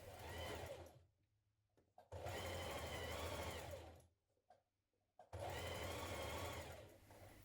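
A sewing machine stitches teddy bear arm pieces together in three close, steady whirring bursts of rapid needle chatter, with quiet pauses and soft handling between runs.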